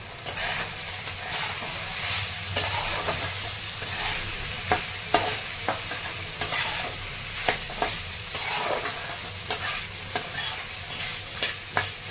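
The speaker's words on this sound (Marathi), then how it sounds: "आता हे बटाटा दोडका हे छान परतलेलं आहे." Potato and ridge gourd being stirred in a hot pan, a steady sizzle of frying under repeated scraping strokes of a spoon against the metal, close and fairly loud with no talking.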